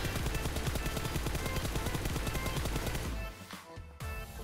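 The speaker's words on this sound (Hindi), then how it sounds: "मैंने M4 का एक पूरा मैग शूट किया इस पे" Rapid full-auto M4 rifle fire at a vehicle in PUBG Mobile, a loud unbroken stream of cracking shots that cuts off abruptly near the end, followed by a short gap and lingering noise.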